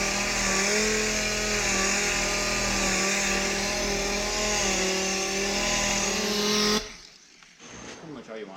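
Power sander whining steadily against the clear coat on a Firebird's body, a loud close droning buzz that runs for several seconds then cuts off abruptly, with people talking over it.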